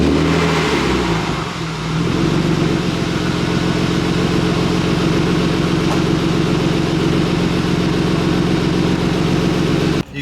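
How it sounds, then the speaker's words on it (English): An Avus Blue BMW E36 M3 idling smoothly at about 500 RPM, a steady, even low engine rumble heard close up and continuous, without speech, ending in a brief clunk. "You guys can see how just smooth this car is running, and it's running at 500 RPM, but it's just nice and steady"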